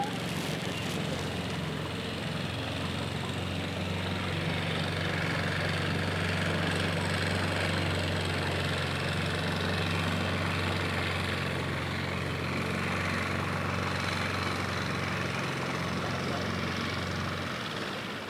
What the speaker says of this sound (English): Good, isn't it? Motorboat.